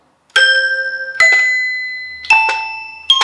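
Soviet-made Zvenigorod toy piano sounds four bright, bell-like struck notes, each with a sharp attack and ringing decay, played alone and close.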